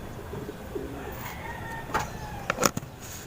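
Pet pigeons in a loft give a few faint, low coos amid soft rustling and a couple of brief clicks, with quiet background noise throughout.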